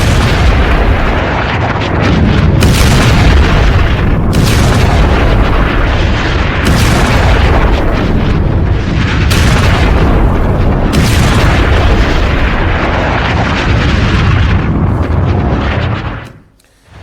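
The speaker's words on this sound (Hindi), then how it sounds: "फास्फोरस बम दाग दिया है इजराइल ने।" An Israeli phosphorus bomb strike on a Hezbollah position, a continuous loud barrage of booming blasts and rumbling explosions with repeated bursts, cutting off abruptly at the end.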